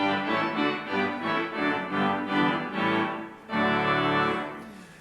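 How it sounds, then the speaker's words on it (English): Loud, brassy en chamade trumpet reed stop of a pipe organ plays a sequence of sustained chords, then swells into a final held chord that fades away. "the en chamade trumpets project sound."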